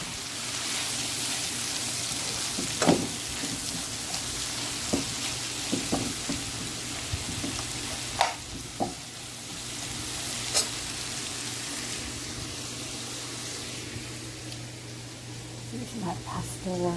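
Spaghetti squash and shrimp pasta sizzling steadily in a hot pan, a continuous frying hiss broken by occasional clinks and stirring scrapes, with a person talking over it.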